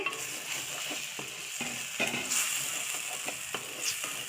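Green chicken curry masala fries in a pan with a steady close sizzle, broken by repeated scraping and clinking as a spoon stirs it.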